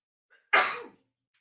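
A single sharp sneeze bursts out close by after a brief intake of breath, then fades quickly into silence.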